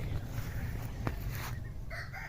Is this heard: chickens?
yes